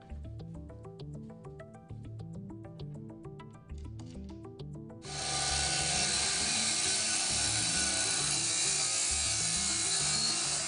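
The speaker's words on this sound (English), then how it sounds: "Now have fun with the PWS 2000-230JE angle grinder from Bosch." A Bosch PWS 2000-230JE angle grinder cutting, first with rhythmic scraping and knocking, then a sudden loud, steady high-pitched roar of the disc biting into the material for several seconds.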